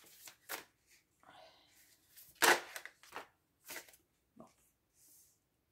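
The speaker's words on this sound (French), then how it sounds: "on va prendre des cartes aussi" Playing cards being handled and shuffled on a table, a few quick riffling bursts and soft taps spaced apart, close and fairly quiet, with a brief spoken word.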